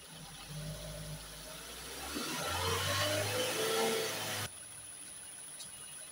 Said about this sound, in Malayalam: ഇനി നമ്മൾക്ക് വാഹനത്തിന്റെ ആർ പി എം ഒന്ന് റേസ് ചെയ്ത് നോക്കാം